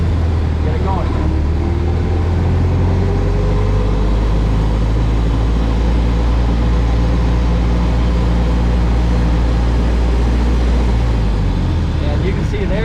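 A 1916 Ford Model T engine pulls away from a stop, a loud, steady mechanical rumble and drone filling the whole stretch with little change in level.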